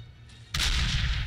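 The giant Gustav railway cannon in the video game Medal of Honor Breakthrough fires one thunderous, close blast that rolls on as a sustained roar.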